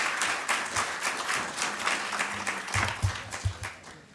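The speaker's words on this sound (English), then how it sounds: "Can we give her another round of applause?" An audience claps together after a talk at a foreign relations council event, giving steady, broad applause throughout that swells briefly with a few louder claps near the end.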